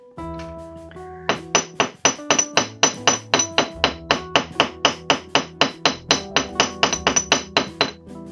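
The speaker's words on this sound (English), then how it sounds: "you can just gently go over them with a hammer" A small hammer strikes wire for a wire-wrapped pendant in a quick, even series of about two dozen sharp, ringing metallic taps. The blows are close and loud, with no voices.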